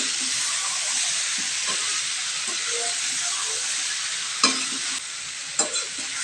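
Potatoes are stirred into a frying Bengali meat curry, a loud, steady hissing sizzle with a few sharp spatula knocks near the end and no talking.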